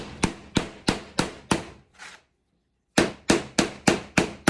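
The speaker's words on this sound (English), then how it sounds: "If you want to put that down on the table and give it a couple of really good whacks" A mold cup is whacked against a table in hard, sharp knocks, five evenly spaced thumps, a faint one, a pause of silence, then another quick burst of five or six loud strikes, close up.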